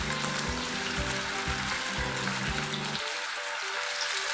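Chicken pieces frying in oil for sweet and sour chicken, a dense steady sizzle with a low humming drone underneath for most of the stretch, the hum dropping away near the end while the frying continues.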